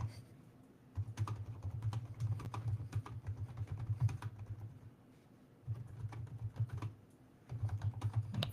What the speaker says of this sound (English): All right, I'm going to type this to you guys.